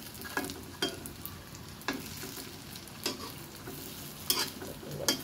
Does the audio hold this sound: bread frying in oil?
yes